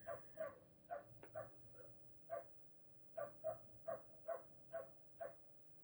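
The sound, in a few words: neighbor's puppy barking outside in backyard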